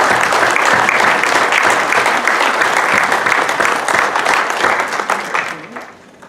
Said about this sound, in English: Give them a great big round of applause for being safe.